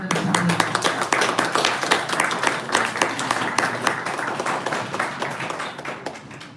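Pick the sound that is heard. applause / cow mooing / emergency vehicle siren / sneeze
applause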